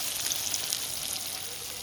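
Boal river fish frying in oil until crisp and red in a village cooking setting, heard as a steady, moderately loud hiss of sizzling with light spattering crackle and no talk.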